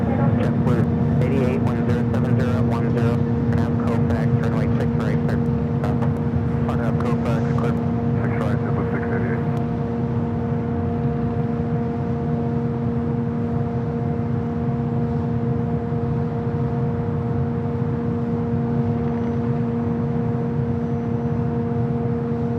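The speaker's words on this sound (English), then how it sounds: "The Korean Air Cargo 777 freighter coming in from Lima" A Korean Air Cargo Boeing 777 freighter arriving at LAX from Lima, a steady loud jet roar with tonal engine hum that holds throughout, plus a generator-like drone nearby and brief talk at the start.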